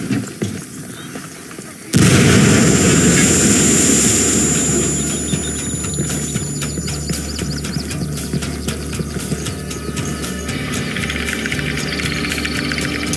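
A frag grenade blasts suddenly and loudly in Ghost Recon Wildlands, its booming roar trailing into a long rumbling decay layered with rapid gunfire crackle.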